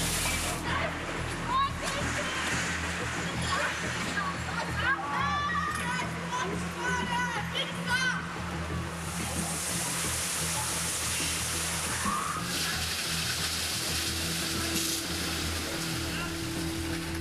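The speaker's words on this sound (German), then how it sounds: "Um weitere Wurfgeschosse zu verhindern, setzte die Polizei den Wasserwerfer ein." A police water cannon sprays water at house-occupation protesters during a July 2014 eviction, a broad continuous rush and splash under a busy crowd, with people talking and shouting throughout.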